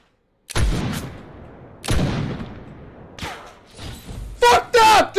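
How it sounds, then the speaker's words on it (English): Gunshots in a Fortnite match, two loud sharp reports with echoing tails a second or so apart, then softer clatter, while a player shouts over the final stretch. "He shot me through the hill!"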